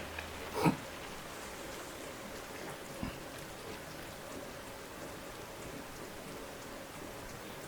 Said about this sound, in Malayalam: മഴ നനഞ്ഞാണ് പോകുന്നത്